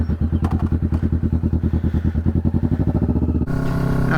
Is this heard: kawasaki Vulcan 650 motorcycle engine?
yes